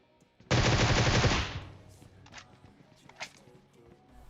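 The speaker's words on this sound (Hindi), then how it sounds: "यहीं कहीं से आगे से गोली चल रही थी" Automatic gunfire in the mobile battle-royale game PUBG Mobile: one loud sustained burst of about a second, then quieter scattered shots, footsteps and faint game noises.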